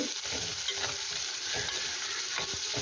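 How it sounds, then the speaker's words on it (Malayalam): Chopped onions sautéing in a pan for an egg aviyal, with a steady close sizzle and repeated scraping stirs, no talking. "സവാള ചെറുതായിട്ടൊന്ന് വഴറ്റുക."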